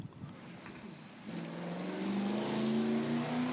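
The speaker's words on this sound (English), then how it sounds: "getting a bit of a burnout off the line in the HQ Monaro GDS 350" An HQ Monaro GDS 350 does a burnout off the start line at a sprint event, its engine revving and building into a rising, sustained roar at some distance.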